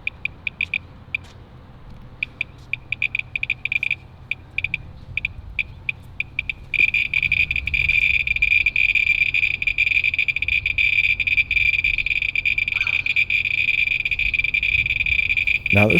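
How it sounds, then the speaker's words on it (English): Geiger counter near radioactive spent fuel storage vents at a nuclear power plant, sparse irregular clicks at first that speed up into a dense, rapid crackle over a steady high beep, with no talk. "the clicks coming off the Geiger counter"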